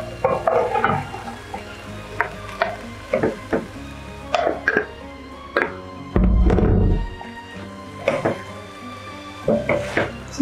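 Sukuma wiki greens stirred in a pan for a sukuma wiki with ugali dish, with clattering spoon-on-pot knocks and bursts of sizzling frying at irregular intervals, one longer loud sizzle midway, close and without talk.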